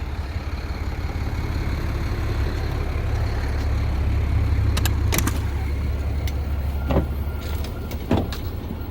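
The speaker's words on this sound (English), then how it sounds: "So yeah, I'm gonna take it for a test drive." A 25-year-old luxury RV engine drones steadily on a test drive, a loud continuous low rumble from inside the cab with a few brief clicks and knocks near the end.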